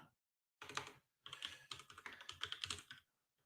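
Fingers clatter on a computer keyboard in close, quick bursts of keystrokes, a short flurry, a pause, then a longer run of rapid typing in a quiet room.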